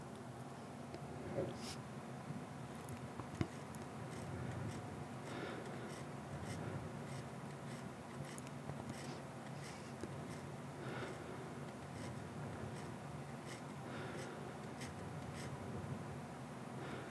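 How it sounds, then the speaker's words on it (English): A dip pen nib scratches across rough paper while a shop front is drawn, a faint dry rasp of short, irregular strokes that continues over a steady background hiss. "Is a bit of friction between the nib and the paper."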